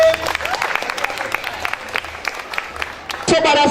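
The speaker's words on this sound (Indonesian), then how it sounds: "Sekali lagi beri aplaus untuk ketua tim." Applause for a debate team leader at a school debate competition: a steady patter of many hands clapping in a hall, dipping briefly before a louder burst at the end, with a voice speaking over it.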